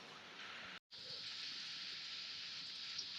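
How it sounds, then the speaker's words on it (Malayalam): Rain falls steadily outdoors in cold, windy monsoon weather, a soft, even hiss that cuts out for a split second and then continues faintly to the end. "ഇപ്പൊ മഴ തന്നെയല്ലേ"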